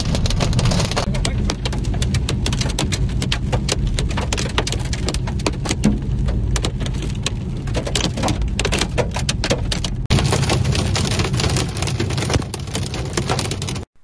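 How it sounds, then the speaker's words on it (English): Large hail pounds a Porsche Cayman 718 GTS 4.0 while it drives, a dense, loud, continuous clatter of impacts on the car body that never lets up, with a slight shift in texture near the end. "this is the largest pieces of hail I've ever seen"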